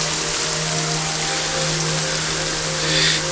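Steady heavy rain falling on surfaces, a dense continuous hiss close by with a low hum underneath.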